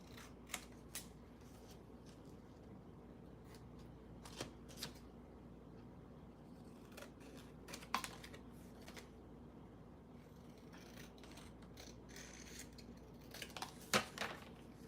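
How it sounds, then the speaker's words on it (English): Non-stick scissors snip through paper with repeated short, crisp clicks and sliding cuts. The cuts come at irregular intervals over a quiet room background, and there is no speech. "They're actually non-stick scissors as well."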